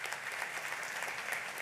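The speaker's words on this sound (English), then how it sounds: "Let's give him a round of applause as well" Applause for a newly graduated New York State Police trooper at a graduation ceremony, a steady wash of clapping from a large crowd, moderately faint and unbroken throughout.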